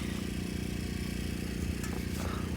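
A camper van engine runs with its exhaust not routed through the muffler. It gives a loud, unbroken, rumbling drone with a rapid pulsing throb, close and constant, with a light rattle on top.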